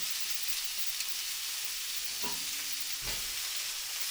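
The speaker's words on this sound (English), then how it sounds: "You hear the simmering is settling down just slightly, which means it's forming that nice crust underneath." Steak searing in a cheap cast iron skillet, a loud continuous broadband sizzle and hiss held steady throughout, with a couple of faint low knocks partway through.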